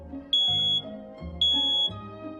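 A smoke detector gives two short, high, piercing electronic beeps, evenly spaced about a second apart, clear and close over a low background hum.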